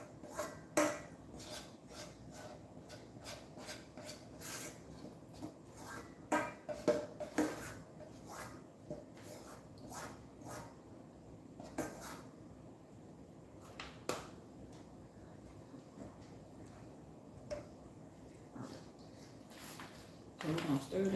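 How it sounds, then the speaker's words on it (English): A spoon stirs macaroni in cheese sauce in a pot for a Thanksgiving meal, giving soft scattered scrapes and light clinks under steady talking. "So we're gonna stir this cheese up."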